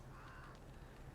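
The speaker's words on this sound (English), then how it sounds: "You can tell it's a crow" A crow caws in the video game The Witcher 3, a single drawn-out harsh call set against a dense, steady outdoor ambience.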